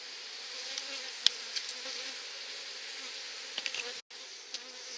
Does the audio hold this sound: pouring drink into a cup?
no